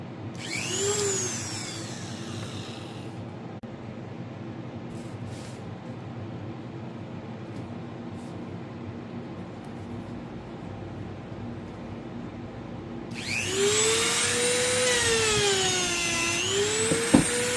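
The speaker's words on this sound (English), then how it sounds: "I'll do just a little more buffing." A motor-driven buffing wheel hums steadily as an unsmoked Perry '84 freehand briar pipe is buffed, its whine rising and wavering in pitch at the start and again loudly near the end, with no talk.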